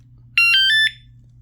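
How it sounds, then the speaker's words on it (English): An Inmotion V11 electric unicycle gives a loud, close electronic alarm of four quick high-pitched beeps in about half a second, with a low hum underneath. "So there I can change the modes from the remote."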